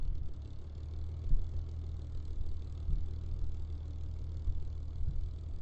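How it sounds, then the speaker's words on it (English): A simulated aircraft engine from the Aces High III flight game idles with the throttle pulled back, a steady low droning hum with faint periodic pulses, running alone without talk. "I'm going to turn the engine on for an example here."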